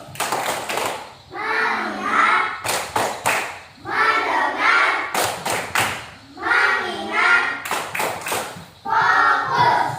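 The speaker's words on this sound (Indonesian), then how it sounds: "Tepuk fokus." Children perform the tepuk fokus clapping routine, bursts of sharp rhythmic claps alternating with chanted young voices in a repeating pattern, close and loud.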